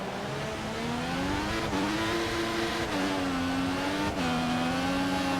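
A race car engine in the F1 2014 video game, racing a wet last lap at the Hungarian Grand Prix, holds steady high revs with brief dips and climbs as gears shift, loud and continuous with no talk.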